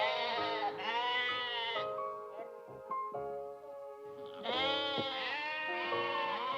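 Sheep bleat repeatedly on an island farm in the Parainen archipelago, with loud, close, overlapping calls that wobble in pitch, a brief lull in the middle, then more bleats.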